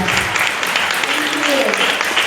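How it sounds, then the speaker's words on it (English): Crowd applause at a youth volunteer awards ceremony, a steady dense clapping wash lasting throughout, with a voice speaking faintly underneath. "Let's give a big round of applause."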